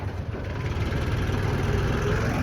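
A tractor engine runs steadily in the open on a farm, a loud, continuous low rumble with even throb and no pauses, heard alone without talk.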